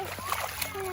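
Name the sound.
children splashing in mountain runoff water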